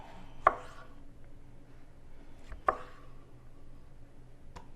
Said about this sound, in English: keep chopping up tomatoes.